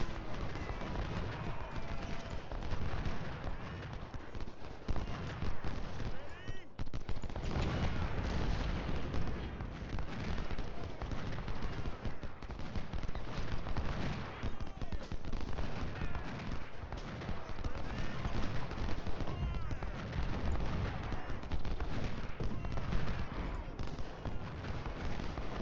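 Civil War battle at Chancellorsville in the strategy game Ultimate General: Civil War, with dense, continuous gunfire, artillery and horse sounds forming an unbroken loud din throughout.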